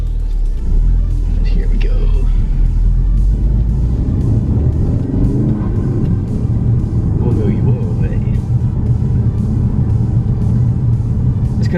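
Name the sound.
Ford Focus RS engine with Mountune induction after cold start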